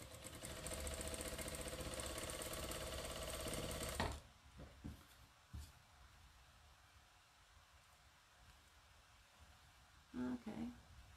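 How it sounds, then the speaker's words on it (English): A sewing machine stitches a half square triangle quilt in one steady, loud, continuous run for about four seconds, then stops, leaving a few soft clicks and brief bursts of handling noise. "I want to just continually sew"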